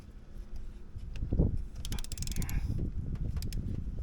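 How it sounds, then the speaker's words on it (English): 3/8 torque wrench tightening a spark plug on a Ford 3.5 EcoBoost engine, a few quick ratcheting clicks and metallic clinks in a short burst, close up, with no talk. "3/8 torque wrench. Get it to go in there."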